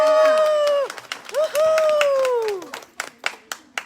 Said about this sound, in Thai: ขอเสียงปรบมือพี่กบเลยค่ะ